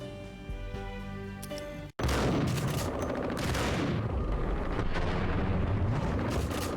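Heavy gunfire in the video game Max Payne: after a brief sustained tone cuts off, a dense, loud barrage of shots and impacts follows continuously.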